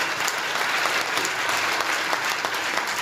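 An audience at a Hindi music launch event claps steadily and densely for a few seconds, a loud, even wash of applause from a crowd with no voices over it.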